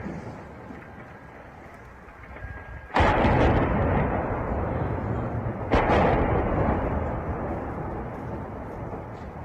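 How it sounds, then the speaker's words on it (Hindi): Missile strikes in Hostomel, Ukraine, two sudden heavy blasts a few seconds apart, each followed by a long rumbling roar that lingers in the distance. "यूक्रेन के होस्टोमेल में कई धमाकों की आवाजें सुनाई दे रही"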